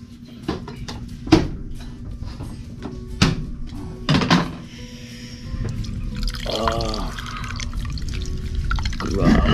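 Coconut water drips and splashes in a series of separate drops, then pours and trickles more steadily into a container, close and clear with no talk.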